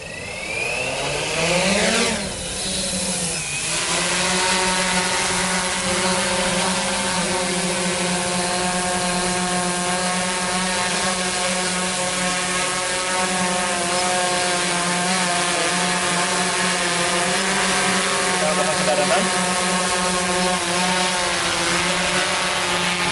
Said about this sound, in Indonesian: Mesin sudah nyala, sekarang kita akan gas pelan-pelan ke atas.